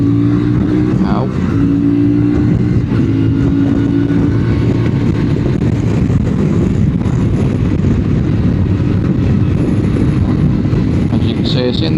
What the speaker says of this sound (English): it's in top gear, and I'm doing 68 and it's quite high rev